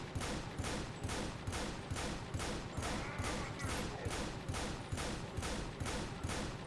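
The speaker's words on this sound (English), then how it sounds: "I'm gonna shoot at it." Rapid gunfire in Earth Defense Force 5 hits a wall, a loud steady fusillade of evenly spaced shots repeating about four times per second throughout.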